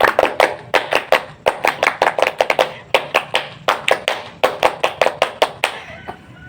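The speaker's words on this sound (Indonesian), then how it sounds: "Sekarang kita tepuk pramuka." Pramuka scouts clapping a rhythmic scout clap in unison, loud and close, sharp patterned bursts of claps with short pauses between phrases, no talking.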